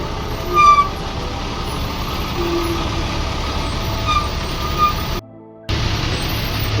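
A bus and a truck squeeze past each other on a narrow mountain road, with steady heavy diesel engine rumble throughout and a brief hiss like an air brake, plus a short dropout near the end.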